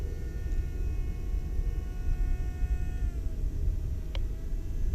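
A Craycle Stick RC plane climbing vertically on a maiden flight, its electric motor giving a steady whine that drops in pitch as it pulls away, over constant outdoor wind noise.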